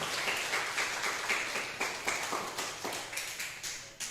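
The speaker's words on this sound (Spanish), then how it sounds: "dele el aplauso al Señor, para el Señor" A church congregation applauds the Lord during a sermon, a steady patter of many hands clapping together, moderately loud and continuous with a faint rhythmic pulse.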